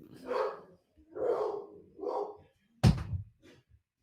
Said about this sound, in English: I slammed the floor to hopefully get them to stop barking